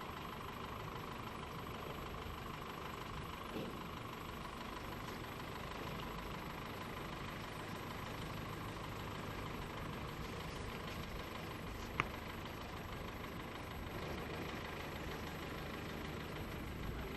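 A Simplex diesel locomotive with an air-cooled Lister engine, a 5-ton peat railway maintenance engine in Ireland, runs with a steady, low, even rumble that is faint and distant, with one brief sharp click midway.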